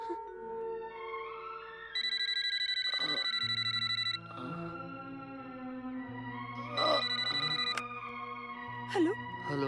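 A telephone ringing in a Hindi-dubbed action film, an electronic melodic ringtone with sustained tones and shifting pitches, loud and alone for several seconds.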